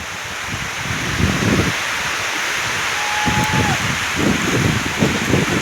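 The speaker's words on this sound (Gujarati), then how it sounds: "વરસાદ ફૂલ વરે રહ્યો અટણ તો." Heavy rain pours down in a steady dense hiss around banana plants, with a continuous wash of drops and a few slightly louder gusts.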